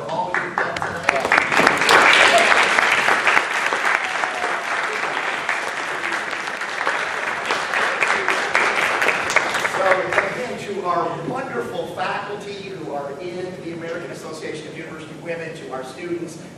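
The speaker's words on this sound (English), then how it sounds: "could you please stand up so we can give you a round of applause for all you've done tonight?" A crowd claps in sustained applause, loud at first and gradually thinning out, with voices talking over it toward the end.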